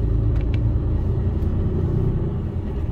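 A new Mercedes Actros HGV truck gives a heavy, steady diesel rumble from the cab as it pulls away and builds speed, loud and continuous, with brief light clicks near the start.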